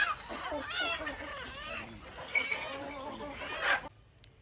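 Village hens cluck nearby in a steady, scattered series, mixed with background chatter, ending abruptly.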